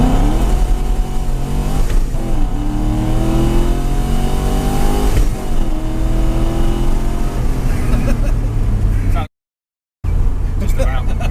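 A supercharged 4.4-litre V8 in a BMW E30 Touring pulls hard in second gear, its engine note climbing steadily toward high revs. The drone is loud and continuous, with people talking inside the cabin over it and a brief dropout near the end.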